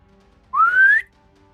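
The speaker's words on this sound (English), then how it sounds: "And you hear a whistle." A single clear rising whistle, about half a second long, sounds close and alone against near silence, in a tabletop role-play scene.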